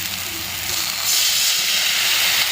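Water poured into a hot, tomato-softened spice paste frying for a desi tengra fish curry sets off a loud, steady steam hiss that swells about a second in and keeps sizzling strongly, with no voices over it.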